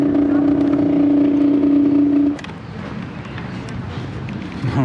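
A scooter engine strains at low speed outdoors on a sunny day near Zurich and Luzern, Switzerland, giving a loud steady droning whine that cuts off abruptly midway, leaving rougher, quieter running and wind noise.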